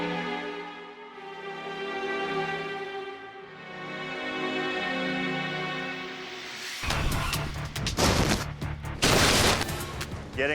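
Gunfire bursts out during a staged movie-style action stunt after a rooftop dumpster dive, loud rapid shots crackling over a sustained musical score that plays alone beforehand.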